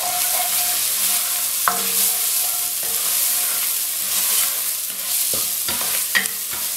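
A spoon stirs a spice mixture of coriander, turmeric and dry methi leaves in a hot pan for smoked keema, steady sizzling with occasional scraping clinks against the pan, close and continuous.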